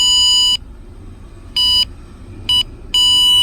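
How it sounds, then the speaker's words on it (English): Four sharp electronic beeps from a power probe testing a Nissan Altima radio circuit, with uneven gaps, loud and close, each a bright steady tone that cuts off abruptly, over faint background hum. "If it has power, it should beep."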